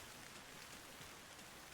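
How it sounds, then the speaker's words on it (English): Rain hitting tree leaves in the game Arma Reforger, a faint, even hiss of pattering drops with no voices. "when you're under trees, you can hear the rain hitting the leaves"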